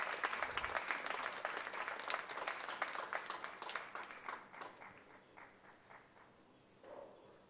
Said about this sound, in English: your thunderous applause must continue